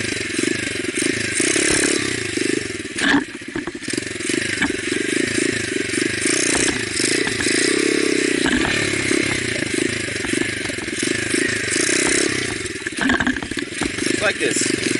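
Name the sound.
motorcycle popping the clutch and braking during wheelie practice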